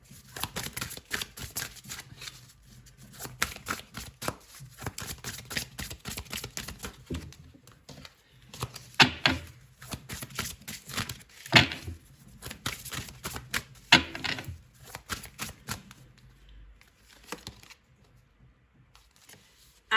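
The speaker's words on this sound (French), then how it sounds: "Je vais reprendre les cartes ici pour vous en donner une dernière pour les FJ" Tarot cards are shuffled close by in quick irregular bursts of crisp riffling and slapping, with brief pauses between handfuls and no talking.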